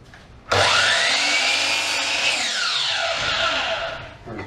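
A power saw cuts through a cedar board pushed against a stop block, a loud continuous high whine and rasp for about four seconds that fades as the cut finishes.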